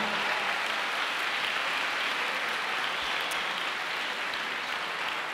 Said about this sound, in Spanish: Vamos a darle un aplauso a todos ellos.